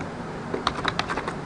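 A brief quick burst of keystrokes on a computer keyboard, close and crisp, with several rapid clicks over low background noise.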